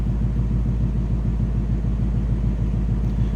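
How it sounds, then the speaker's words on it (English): A 2018 Ford Mustang GT's 5-liter V8 idles with a deep, steady throaty exhaust rumble, heard close from behind the car with an even pulsing beat throughout. "Slip around to the back so you can hear this nice low throaty rumble coming out of that 5-liter."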